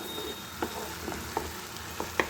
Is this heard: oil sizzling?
yes